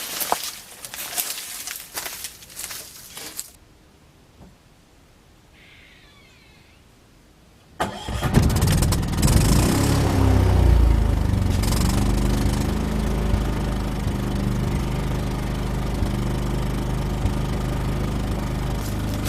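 A portable generator fitted with a homemade muffler cranks and fires at about eight seconds. It settles into a loud, steady running drone that holds to the end, with quiet clatter and handling noise before the start.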